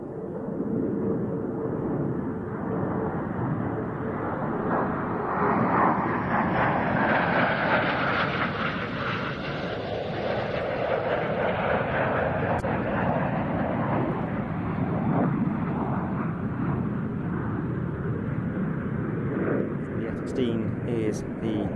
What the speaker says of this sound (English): A pair of F-16 Fighting Falcons from the US Air Force, coming to us from Spangdahlem Air Base in Germany.